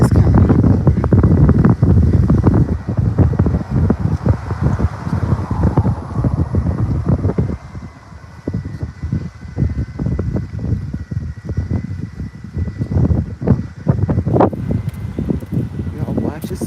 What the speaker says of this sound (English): The wind is still blowing, feeling good.